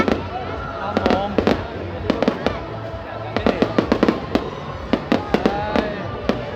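Fireworks burst repeatedly at a display in Hải Dương, Vietnam, with sharp cracks and booms in irregular clusters over a steady crowd murmur, while people talk nearby throughout.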